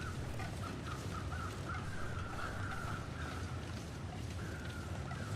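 Crows caw repeatedly in the video game The Long Dark, their calls sitting over a constant roar of wind and weather near a row of train cars.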